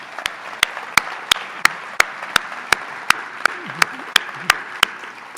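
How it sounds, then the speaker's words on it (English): Applause at an evening lecture on the Supreme Court sounds here as a lone, slow, evenly spaced series of sharp claps, about three per second, with faint voices murmuring in the background. "So please join me in a round of applause for them."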